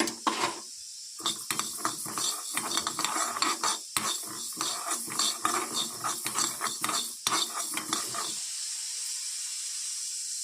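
Mustard and fenugreek seeds crackle and pop while dry-roasting in a pan over a medium flame, with quick irregular ticks and rattles, close and fairly faint, no voices.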